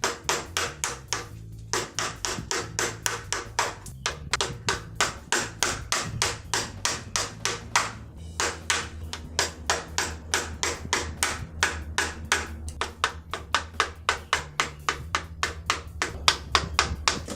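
A chisel cuts into wood for a wooden ladder under a long run of steady, sharp mallet knocks, close and evenly paced, with brief pauses between bursts.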